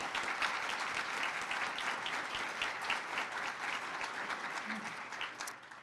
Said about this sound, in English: Please, another round of applause for Hilda.